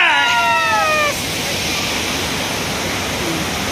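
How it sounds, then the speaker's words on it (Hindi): Khambeswari waterfall pours with a dense, steady roar of rushing water, loud and close, while a brief high whistle or chirp rises over it in the first second. "वाटरफॉल देख भाई मैंने, वाटरफॉल मस्त"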